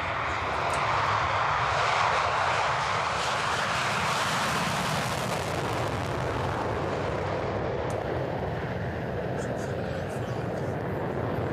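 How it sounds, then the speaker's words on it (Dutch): A Saab AJ 37 Viggen jet fighter of the Swedish Historical Flight makes a loud flyby with afterburner lit at an air show display, a continuous broad roaring thunder that holds steady throughout. "Daar komt hij, de Saab Vikken van de Swedish Historical Flight."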